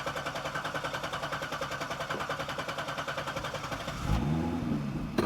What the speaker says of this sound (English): I'm gonna step all the way on the accelerator pedal and then I'm gonna try to crank the engine